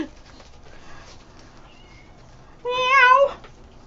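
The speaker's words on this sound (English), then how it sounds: "He's just staring at me, meowing at me." A pet cat meows once indoors, a single drawn-out, wavering call, close and fairly loud, after a few seconds of quiet room noise.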